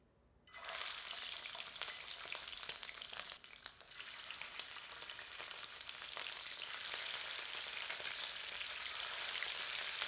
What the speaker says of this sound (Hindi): अब एक बर्तन में पर्याप्त मात्रा में सरसों का तेल गर्म करते हैं, जिसमें हम चिकन को आंशिक रूप से तलेंगे, यानी कि शैलो फ्राई करेंगे